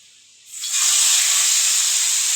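Fish dropped into hot oil, a sudden loud hiss that swells within half a second and then holds as a steady, close, bright sizzle, with no one talking.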